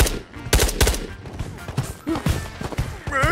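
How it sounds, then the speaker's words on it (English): Gunfire in the video game Ghosts of Tabor, with several sharp shots in quick bursts, loud and close, mixed with a voice. "He was shooting at me."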